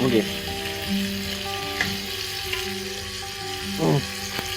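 Chicken pieces fry in masala in a pan while being turned, a continuous near sizzle with a few soft scrapes and a sharper clatter of the spoon toward the end.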